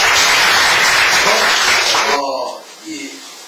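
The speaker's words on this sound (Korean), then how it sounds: "박수 한번 쳐주세요." Residents at a community meeting in Namyangju with an education superintendent candidate give loud, dense applause that dies away after about two seconds, followed by a faint voice.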